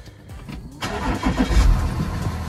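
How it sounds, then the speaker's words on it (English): A 2014 Audi A8 D4 3.0 TDI diesel cranks briefly and starts, then settles into a loud, steady idle close to the microphone. "And basically we're gonna start engine."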